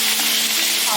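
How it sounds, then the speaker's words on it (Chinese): Sichuan peppercorns, bean paste and old ginger frying in a wok, a loud, dense, continuous sizzle heard close up. "现在开始炒料了，来一把花椒，再来一条个豆瓣儿，再来老姜。"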